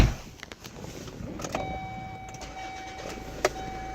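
A Kia New Sportage from 2005 with a diesel VGT engine cranks and starts, settling into a quiet, steady idle with a few faint clicks heard from inside the car.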